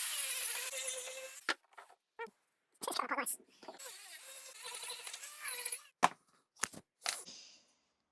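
An angle grinder scours surface rust off a motorcycle exhaust pipe in short, whining bursts with several gaps between passes.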